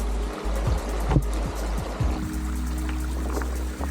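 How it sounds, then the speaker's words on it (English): A waterfall in Djibouti's Goda Mountains, a close, steady rush and splash of pouring water with a few sharper splashes near the start, and no voices. "Made it to the waterfall."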